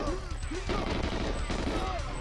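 Gunfire in the Xbox Live Arcade remake of GoldenEye 007 rattles in repeated bursts over a steady game soundscape, fairly loud and continuous throughout.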